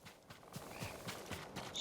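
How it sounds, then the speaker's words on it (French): In the Ghost of Tsushima video game, a horse's hooves clop in a quick, even trot, soft and somewhat distant, and no one speaks during it. "Mon cheval qui s'appelle Kaz, hein, on le rappelle"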